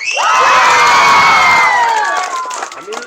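A crowd of students at Haji Rashid Ali Senior Secondary School cheers and shouts loudly and continuously, with some clapping mixed in, before the noise thins and fades toward the end.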